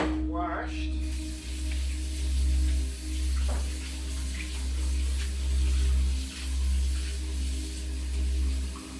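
Water runs steadily from a tap while something is washed for Jamaican rundown in a country kitchen, a continuous close rushing stream with small splashes.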